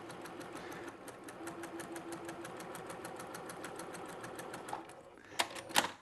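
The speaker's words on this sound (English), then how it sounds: "And we're gonna stitch through here." A sewing machine stitches through pieced quilt fabric with a steady, fast mechanical chatter of needle strokes that runs evenly, then slows and ends in a few louder clunks, heard close and alone.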